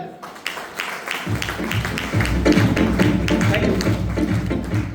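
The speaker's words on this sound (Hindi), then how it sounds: "आदरणीय गुरुदेव मनोज बजाज सर, उनके लिए एक बार ताली हो जाएगी" Audience applause for Manoj Bajaj at a celebration of an Emerald pin and Vitara Brezza car achievement, starting quietly, then swelling into steady, dense clapping from a crowd of listeners.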